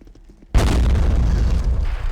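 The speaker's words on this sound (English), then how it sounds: "he's got his mortar firing at our AT cannon" Mortar fire in the Men of War: Assault Squad war game strikes with a sudden heavy boom after a quiet moment, then a long loud rumbling roar that lingers and slowly fades.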